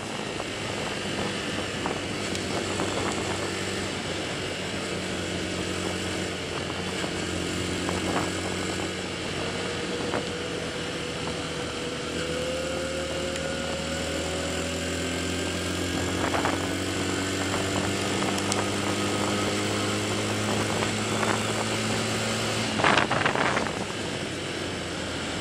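A Romet RCR 125 motorcycle engine purrs and rises in pitch as the throttle opens, a continuous droning growl whose harmonics climb and settle over the span, with no voices over it.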